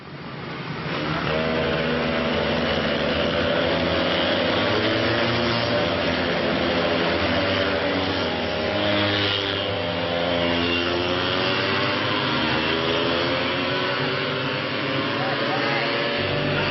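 Go-kart engines drone steadily with wavering, rising and falling whines, like several small motors revving together. A narrating voice runs over the engine noise throughout.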